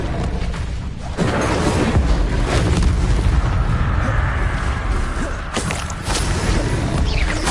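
Confringo and Incendio spells explode in Hogwarts Legacy, loud booming blasts and whooshes layered over a busy, continuous battle din with sharp crashes near the end.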